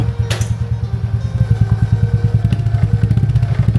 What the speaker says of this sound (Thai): ลองฟังเสียงท่อ